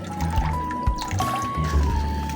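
Water poured into a container during a morning feeding routine, a close, gurgling fill with a rising tone as the vessel fills, over low background rumble.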